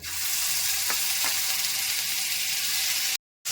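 Ground spice paste sizzling steadily in a pan for a chhana dalna curry, with a couple of soft stirring clicks, continuous and close, then a brief cut to silence near the end.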